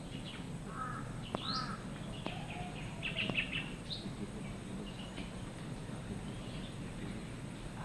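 Crows cawing outdoors in the Philippines, a few scattered harsh calls at a moderate distance over steady background noise, with other faint bird chirps; no one speaks.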